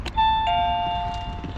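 A two-tone electronic doorbell chime at a hostel gate in Almaty, Kazakhstan rings out clearly and sustains, with faint background traffic noise underneath.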